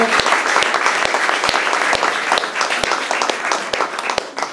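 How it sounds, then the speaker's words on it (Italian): An audience at a New York welcome event for the Italian Prime Minister breaks into sustained, dense applause, loud and close, with a few sharper individual claps standing out. "Let's give them a round of applause and welcome"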